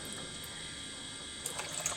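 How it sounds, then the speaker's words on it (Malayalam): Water trickles steadily into a pot of fish curry cooking on a stove, a soft continuous pour with a few brief splashes and clinks near the end, close and quiet. "അത്രയും വെള്ളം ഒഴിച്ച് കൊടുത്താൽ മതി"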